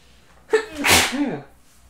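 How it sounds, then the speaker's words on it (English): A single close, sharp sneeze with a quick breathy intake before the burst, heard alone in a quiet room. "I'm going to have to sneeze in a moment."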